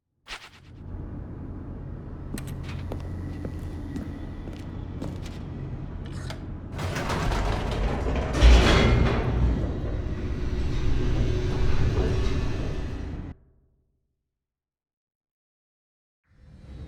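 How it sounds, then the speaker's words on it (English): Elevator plunging downward in The Stanley Parable, a steady mechanical rumble and rattling hum that builds and swells loud near the middle, then cuts off abruptly into silence. "The elevator raced downward"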